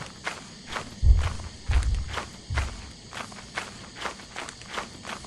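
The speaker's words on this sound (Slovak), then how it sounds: "Neviem, či sa mi to zdalo, ale počul som kroky." Footsteps in the video game Lethal Company: about a dozen quick, regular steps with a few heavier, thudding ones near the middle, fairly close and heard alone without talk.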